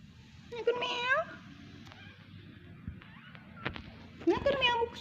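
A little kitten meows in two drawn-out, wavering cries separated by a quiet pause, fairly close, with a faint low background hum and a brief soft chirp between the calls.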